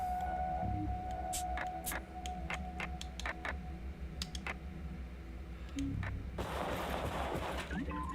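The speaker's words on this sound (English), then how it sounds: "Speaking of spells, Rune Bomb." A Rune Bomb spell goes off in a video game: scattered sharp clicks and pops, then a broad, hissing burst of blast noise near the end, with quiet game sounds around it.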